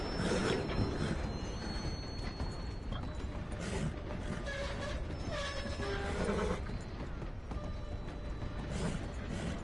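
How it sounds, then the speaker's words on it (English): A long freight train rolls by in Red Dead Redemption 2, giving a steady mechanical clatter of wheels and couplings with ratcheting clanks and brief horn-like tones, loud and continuous throughout without talk. "So now I have to wait for this train to pass."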